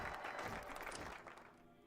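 Faint applause from a crowd, a dense patter of clapping that holds steady and then gradually tapers off, quiet and distant-sounding.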